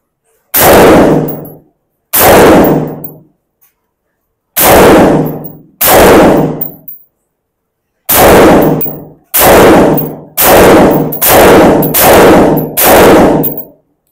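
Ten rounds fired from a Kral Arms KR 556 Pro rifle, loud sharp cracks each with a decaying tail, spaced in uneven pairs at first and then a quicker run of shots toward the end, with no talk.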